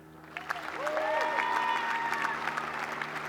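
A high school graduation audience applauds veterans, a steady wash of clapping from a large crowd in a big hall, moderately distant, with a voice faintly heard over it.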